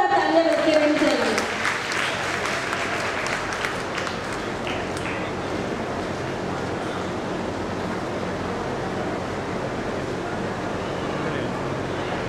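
A crowd at a district convention and awards ceremony in Sawai Madhopur claps loudly, opening with a brief voice and tone before settling into a broad, sustained roar of applause that fills the room.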